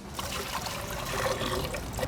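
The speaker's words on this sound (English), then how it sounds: "I'm gonna go ahead and pour it in the tank" Water is poured into a toilet tank, a soft continuous trickle and splash, fairly quiet and close.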